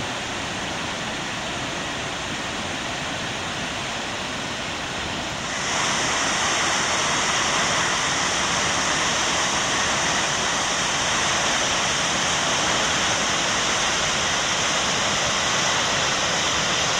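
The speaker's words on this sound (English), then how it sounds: "It is known for its beautiful waterfall, Skogafoss, which is on the Skoga River, which springs from 60 meters of eroded cliffs." Skogafoss, a waterfall on the Skoga River in Iceland dropping from 60-metre eroded cliffs, gives a constant rushing roar that swells noticeably louder about a third of the way in, then holds steady, with no voices.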